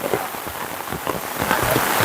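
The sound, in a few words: rain falling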